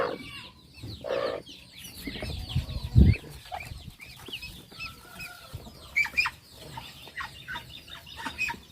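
Chickens cluck in a backyard hatching area, soft and intermittent calls at close range, with a sharp louder squawk near the start.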